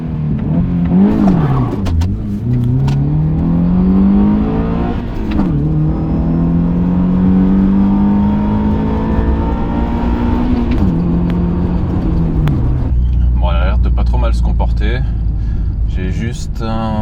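A rebuilt Subaru Impreza engine pulling hard up close: the revs climb in rising sweeps with gear shifts, then the engine settles into a lower rumble with whirring and rattling near the end.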